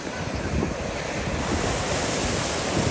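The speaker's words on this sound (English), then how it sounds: "The waves are so strong here." Strong ocean waves at a beach in San Agustin, La Union, Philippines, a dense continuous roar of surf with heavy wind buffeting the microphone, loud and unbroken.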